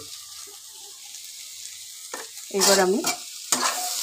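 Soya chowmein being stir-fried in a pan, a soft constant sizzle broken by louder stirring scrapes, with a brief spoken voice partway through.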